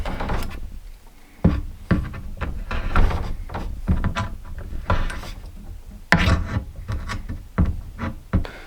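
Brad nail being worked and pulled out of wooden fascia on an RV slide room, a series of close, sharp creaks, scrapes and knocks in irregular bursts.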